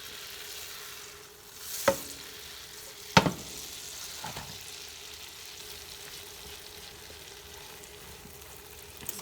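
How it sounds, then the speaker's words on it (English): Onions frying in a pan on the stove, cooking down to caramelize, give a steady close sizzle broken by a few louder knocks and scrapes as they are stirred; no voices. "So I just added the onion, and I want this to caramelize."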